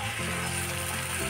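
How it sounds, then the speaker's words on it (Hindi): Chopped onion sizzling in hot oil in a pan while cooking a paneer curry, a steady close frying hiss with no pauses. "अब इसमें हम लोग ने चॉप जो किया था प्याज को, वो ऐड कर देंगे, उसको हल्का सा गोल्डन होने तक फ्राई करेंगे"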